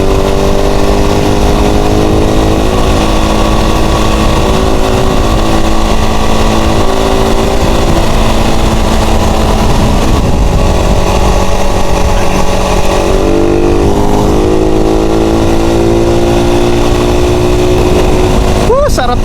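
A motorcycle engine droning loudly and continuously while riding, with shifting pitch and heavy wind rumble throughout.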